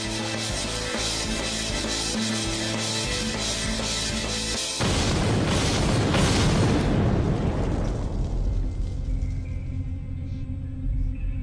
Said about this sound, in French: La détonation résonne dans toute la ville.